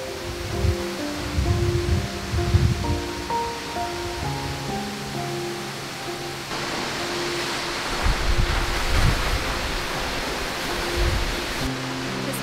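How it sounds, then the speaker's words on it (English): Belmore Falls, a waterfall in New South Wales, sends out a continuous broad roar of rushing water heard from nearby, with gusts of wind noise hitting the microphone. "This waterfall is incredible."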